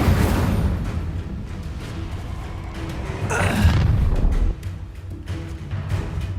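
A fire spell cast in Hogwarts Legacy erupts in dense booming bursts, loud and close, with a sharper flare midway through the battle.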